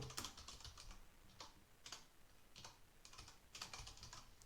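Typing on a computer keyboard during a live math lesson, heard as bursts of quick, light key clicks with short pauses between them, close and fairly quiet.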